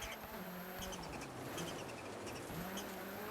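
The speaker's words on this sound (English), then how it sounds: "I'm just going to let you guys enjoy the noise of the car and the pace notes" A rally car engine in EA Sports WRC runs steadily at a constant drone throughout, with a faint tonal whine above and no talk.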